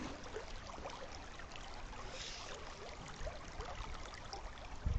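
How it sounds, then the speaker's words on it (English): River water rushes and babbles steadily around boulders, a continuous broadband flow with no voices, ending with a couple of soft knocks. "But just listen to this water, it's beautiful."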